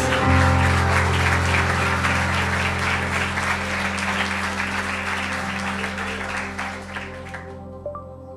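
A church congregation at a worship service in Lisbon applauds, a dense, loud wash of clapping over a sustained keyboard or organ chord that continues throughout, fading out near the end.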